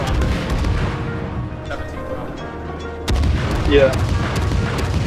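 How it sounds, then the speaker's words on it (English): Naval guns firing at an enemy destroyer in World of Warships, heavy booming salvos over a low engine rumble, with a person talking briefly. "I'm gonna shoot at the Matsuki"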